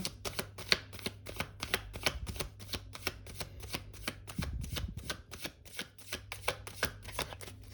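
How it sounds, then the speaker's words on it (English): A deck of tarot cards is riffled and shuffled in a quiet room, with rapid, evenly spaced crisp card flicks running steadily throughout, close and moderately loud, with no voices. "All right, we'll do one last shuffle"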